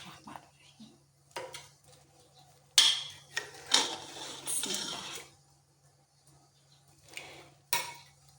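Chicken dahi tikka being served out onto a dish, with spoon scrapes and clinks against pans and plates in scattered bursts, close and moderately loud, under a low steady hum.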